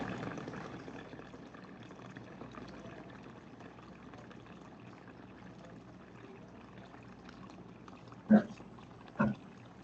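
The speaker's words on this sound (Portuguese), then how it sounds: "Abrimos a torneira para simular o uso da água." Water runs steadily from an opened tap in a small tank-and-pump setup with upper and lower level sensors. The flow is a faint, continuous hiss throughout, and two brief louder knocks come near the end.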